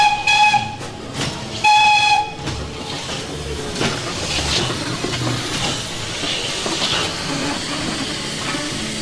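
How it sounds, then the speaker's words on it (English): Replica steam locomotive moving down a street, with two short shrill whistle blasts followed by loud, continuous hissing and chuffing of steam close by, no talk. "and you can hear the steam."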